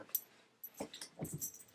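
A dog whimpering and whining nearby in a home, a few short thin cries in quick succession after a brief pause, faint overall.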